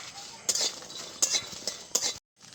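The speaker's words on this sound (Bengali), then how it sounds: "প্রথমে রসুন আর শুকনো লঙ্কাটাকে ভেজে নেব।" Garlic and dried red chillies are dry-fried in a pan without oil, with a faint sizzle under a few separate metallic clinks and scrapes of a utensil against the pan, close up, before a sudden cut to silence.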